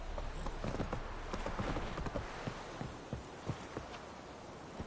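Horse hooves gallop in the video game The Witcher, a quick rhythmic clip-clop of repeated thuds that grows sparser toward the end, fairly quiet and without talking.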